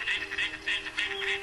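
Ducks quack in short nasal bursts, roughly three or four calls over a second and a half, fairly close and clear with a steady faint background hum.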